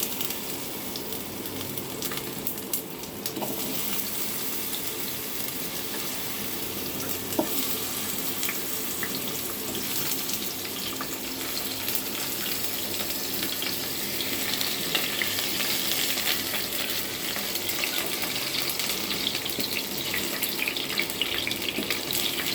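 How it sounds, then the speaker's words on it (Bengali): Potatoes fry in hot oil with a steady, bright sizzle that holds throughout, close by, with occasional faint clinks and a slight swell in intensity toward the end. "তেলটা খুব সুন্দর করে গরম করে নিয়েছি, এবার আলুগুলো ভেজে নেব।"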